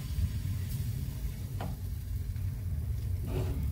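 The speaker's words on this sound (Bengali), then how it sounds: "নেড়ে এবার এক চামচ করে এই তাওয়ার মধ্যে দিয়ে দিতে হবে।" A spoonful of pithe batter sizzling on a hot tawa, a steady close frying hiss with faint scraping ticks, no talking.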